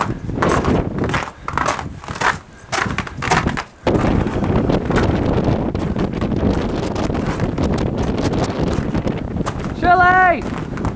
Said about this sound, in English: Oh yeah, here comes the wind.